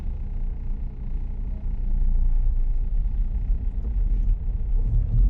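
Engine of a 2015 Fiat Palio Fire with a 75-horsepower engine, driving in congested morning traffic; a steady low rumble with road noise fills the interior, growing slightly louder partway through, with no talking.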